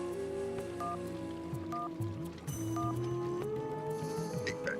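A telephone in a Bengali cartoon sounds a series of short dialing beeps, then a repeated ringback tone, faint and steady under a soft background hum.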